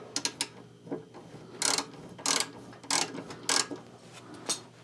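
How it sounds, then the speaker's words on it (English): A ratchet tightens the fender brace on a Harley-Davidson Road Glide Ultra, with quick clicking bursts followed by several longer, louder ratcheting strokes at close range, alone without talk. "we're just going to tighten it down a little bit right back here"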